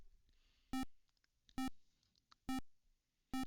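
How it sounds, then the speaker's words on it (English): Loud electronic beeps from the 1986 Virgin Games ZX Spectrum 48k game FA Cup Football, four short harmonic-rich tones spaced evenly about every 0.9 seconds over a faint background. "So it's just beeping at the moment."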